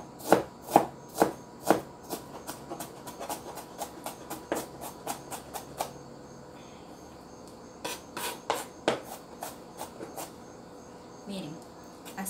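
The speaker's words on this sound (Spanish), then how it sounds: "ya terminé de picar la cebolla" Knife chopping an onion into rings on a cutting board while making chiltepe pico de gallo, with quick bursts of sharp, close taps, a fast run at the start and more clusters later, separated by quieter handling sounds.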